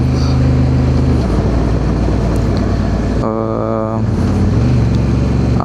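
A 2025 Honda Africa Twin Adventure Sports with a dual-clutch automatic gearbox rides along, its engine humming steadily under loud wind rush, with a brief shift in engine tone partway through.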